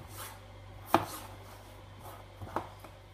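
A knife chops vegetables on a cutting board in a quiet kitchen: two sharp, isolated knocks about a second and a half apart, with faint softer taps in between.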